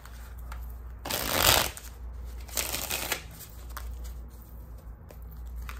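Tarot cards being shuffled for a reading, two distinct riffling bursts close to the mic against a quiet background, with no one talking.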